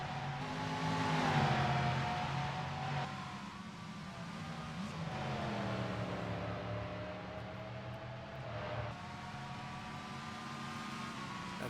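Le Mans GT race cars battle at Watkins Glen, engines droning at high revs with rising and falling pitch as they accelerate and shift, heard from a distance under a steady background roar.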